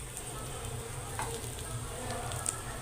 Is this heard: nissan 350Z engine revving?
no